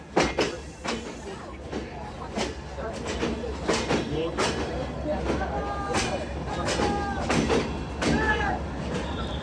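Two express trains, the Benapole Express and the Ruposhi Bangla Express, crossing at Jessore Junction railway station: wheels clatter over rail joints in repeated sharp clacks amid rumbling carriages, with station voices mixed in.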